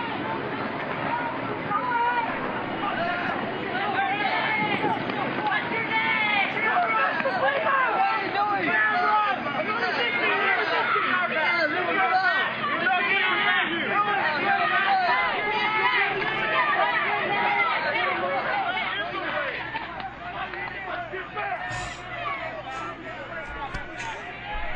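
A crowd being dispersed at a protest in Russia, with a dense, loud babble of many voices, shouting and commotion continuing steadily throughout.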